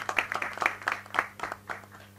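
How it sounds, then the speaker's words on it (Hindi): Scattered handclaps from a small audience at a film trailer launch event, a few uneven claps ringing out close by in a loose rhythm rather than full applause. "जोरदार तालियां इनके लिए."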